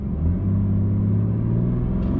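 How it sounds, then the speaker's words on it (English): A BMW E91 330d diesel estate with a stage 1 remap and DPF, EGR and swirl flap delete idles and holds raised revs, giving a steady, close, loud low rumble of engine tone with no talk over it. "So I'm going to set the revs."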